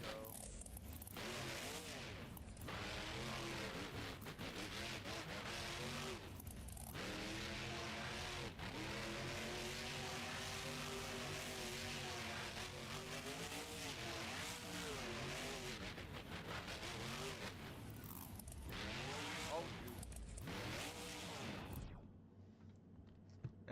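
A monster truck engine in the BeamNG driving game, Monster Jam-style arena run in Houston, roars and revs almost continuously and loudly with rising and falling pitch sweeps, briefly dropping between throttle bursts before cutting off near the end.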